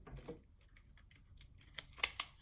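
Scissors snip through scored paper for a mini album, a few quiet close cuts with soft rustling between them.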